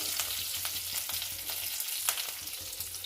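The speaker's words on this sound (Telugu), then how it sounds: "ఇప్పుడు కొంచెం కరివేపాకు వేస్తున్నాను." Curry leaves fry in hot oil in a pan for an onion-and-eggplant dish, giving a steady, close crackling sizzle with small pops and occasional stirring scrapes.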